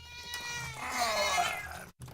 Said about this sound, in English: This cat knows he's not allowed back there, and he's doing it.